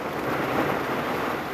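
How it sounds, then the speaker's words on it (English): Steady heavy rain pours during a severe storm, with a continuous dense hiss and a low thunder rumble underneath, heard from inside a parked car with no talking. "kind of stuck out here in the rain. It's severe storms today."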